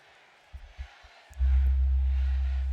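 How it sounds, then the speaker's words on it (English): Pyrotechnic blast at a wrestler's entrance in WWE 2K25, a sudden deep sustained roar bursting in after a few soft thumps and faint crowd noise. "Let's look at the pyro."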